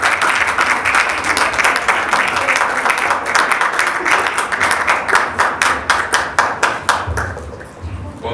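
Applause from a crowd at a youth conference, a dense sustained clapping that turns into slower, more distinct rhythmic claps toward the end, loud and close.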